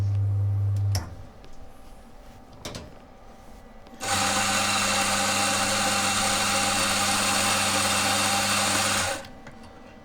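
A Mazzer Super Jolly V Pro coffee grinder grinds espresso beans in one loud, steady whirring burst of about five seconds, with a quieter motor hum and clicks before it.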